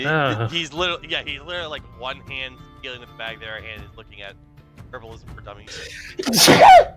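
One sharp, loud sneeze bursts out near the end, following a stretch of several people chatting casually around a table.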